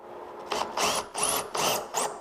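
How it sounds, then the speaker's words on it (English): A power driver sets screws into a whitetail deer taxidermy mannequin in four or five short whirring bursts separated by brief pauses, close and fairly loud with a ratcheting edge. "So now let's put the other screws in here."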